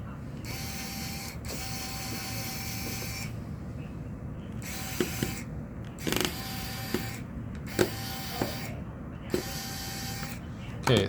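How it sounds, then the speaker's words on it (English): Small screws are being removed from a Huawei P30 Pro phone, with bursts of whirring electric screwdriver and faint mechanical clicks separated by short pauses, close and fairly quiet. "So I'm going to start removing the screws."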